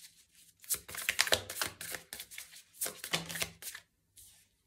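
Tarot cards are shuffled by hand in quick, close papery riffles and slaps, falling in several bursts with short pauses between them. No one speaks.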